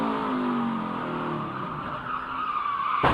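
A NASCAR Xfinity race car at Chicago suffers wheel hop in a corner, heard as a steady loud engine roar with juddering tire scrub that rises into a sharp burst at the end.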